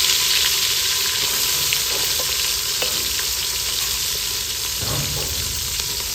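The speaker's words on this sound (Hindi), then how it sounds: "माशाल्लाह घी जो है गर्म हो चुका है। अब इसमें हम मसाले ऐड कर रहे हैं" Spiced paste of garlic, ginger, onion and tomato frying in hot ghee, with a steady close sizzle throughout and a few faint stirring sounds.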